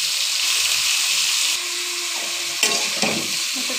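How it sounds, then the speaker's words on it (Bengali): Boiled young jackfruit fries in a little oil, with a steady hiss that drops slightly partway through, then a couple of short stirring scrapes near the end. "একটু তেলে ভাজি করে নেব।"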